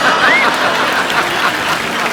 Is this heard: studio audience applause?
yes